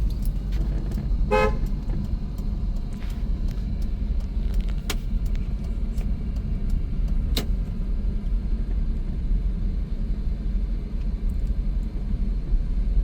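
A car on the road during a driving lesson gives one short, bright honk of its horn early on, over a continuous low rumble of engine and road noise.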